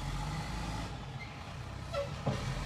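A garbage truck reversing and maneuvering on a street at 2 in the morning, its low engine rumble steady throughout, with brief air-brake hisses and a squeal near the end.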